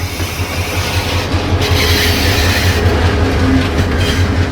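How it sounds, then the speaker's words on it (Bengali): A train approaches and passes very close, with a heavy, continuous rumble and rhythmic clickety-clack of wagons that holds steady and loud throughout. "একদিকে ট্রেন আসতেছে আর আসতেছি আমরা, দেখো এইখান পর্যন্ত কাঁপতেছে।"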